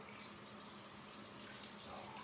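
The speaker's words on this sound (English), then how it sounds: "I want to add 2 tablespoons of water in there as well." Two tablespoons of water poured into a Tuscan chicken recipe in a home kitchen, a soft continuous trickle and splash, faint and steady over room noise.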